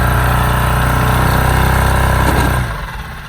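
A Riviera 3600 Sport Coupe boat engine runs loud and steady on very old gas, a continuous rumbling drone that drops away sharply near the end as it eases off.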